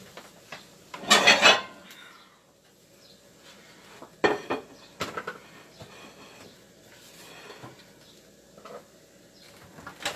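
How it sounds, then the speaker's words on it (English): Kitchen utensils are shoved aside on a home cooking counter, with a loud metallic scrape and rattle early on, then scattered clinks, taps and brief rubbing sounds as items are moved. "Get my utensils out of the way."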